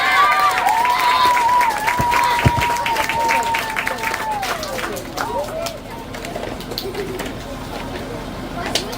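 Elementary school students and guests at a steel topping-off ceremony burst into applause and cheering, a loud sustained clatter of hands with shouts and a whistle-like tone rising above it before it slowly thins out.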